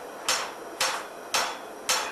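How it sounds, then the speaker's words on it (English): A farrier's hammer strikes a horseshoe during hot shoeing, four sharp metallic blows landing at a steady rhythm roughly half a second apart, close and loud with no voices. "There's still a lot of hammering involved,"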